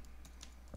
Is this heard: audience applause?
no